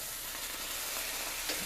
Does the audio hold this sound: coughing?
no